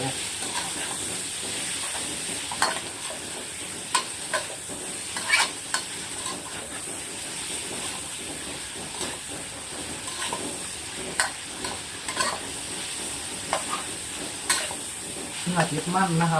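Beef sizzles and is stirred in a hot pan for Thai pad kra pao, a steady loud frying hiss with frequent scraping clicks of the spatula throughout.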